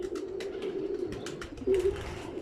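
An Imam Deen breed pigeon coos softly nearby while held in hand, a few low burbling calls, with light rustling and wing flutters in the background.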